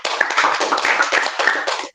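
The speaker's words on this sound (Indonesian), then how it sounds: "Tepuk tangan buat semuanya." Students in a classroom clap together in dense, continuous applause for about two seconds, loud and close with no speech over it.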